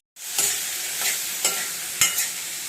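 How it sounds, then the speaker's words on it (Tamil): Mustard seeds, cumin and dried red chillies frying in a hot kadai, a steady close sizzle with a few sharp stirring scrapes and spits spaced through it, no talking. "கடாய் ஹீட் ஆயிருச்சு. கடுகு, சீரகம், மிளகாய் ஆட் பண்ணிக்கலாம்."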